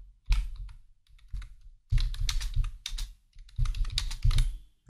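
Keys clatter on a computer keyboard at a desk in bursts of rapid typing, close and clear, separated by brief pauses, with no talking.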